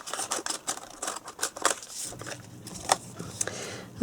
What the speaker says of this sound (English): So we're going to just trim around the edges.